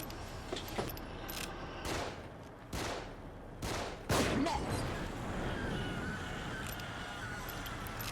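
Gunfire in the horror video game The Evil Within while shooting enemies: a series of sharp, loud shots in an irregular rhythm, with echoing tails and background game ambience between them.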